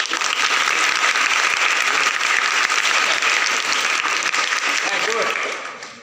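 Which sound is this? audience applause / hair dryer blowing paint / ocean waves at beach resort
audience applause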